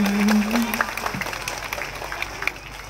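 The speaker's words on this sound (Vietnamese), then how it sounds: "xin mời bà con cô bác lại tiếp tục vỗ tay" Audience at a school's 40th-anniversary variety show applauding, a dense wash of clapping that swells at the start and then thins, with a voice speaking over it.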